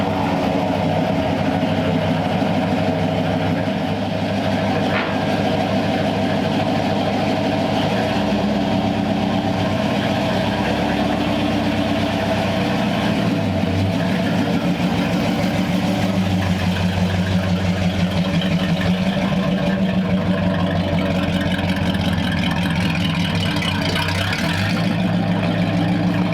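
A 1932 Ford Coupe engine idling steadily and loudly, a continuous low rumbling drone with a slightly uneven pulse that holds for the whole stretch without speech.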